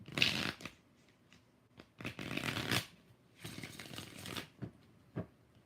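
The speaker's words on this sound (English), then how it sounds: "6 shuffles." Tarot cards being shuffled, with bursts of riffling and flicking and short pauses between them, close and fairly quiet, with no talk.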